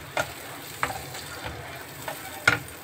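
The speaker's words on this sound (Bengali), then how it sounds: "মশলা টমেটো সব কিছু পেস্টটা ভেজে নিতে হবে ভালোভাবে।" Spice and tomato paste frying in a pan, a soft steady sizzle broken by four or five distinct scrapes of a spoon stirring, close and without voices.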